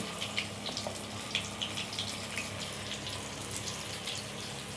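Batter-dipped chilli pieces for mirapakaya bajji drop into hot oil and fry with a continuous soft, hissing sizzle and faint crackles, heard fairly quietly from close by.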